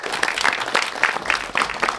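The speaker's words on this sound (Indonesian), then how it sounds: "Boleh tepuk tangan lagi?" Indoor crowd applause at a basketball event announcing the All-Indonesia 2024 team and the Piala Menpora, a short burst of clapping with a fairly even, pulsing rhythm, moderately loud and close.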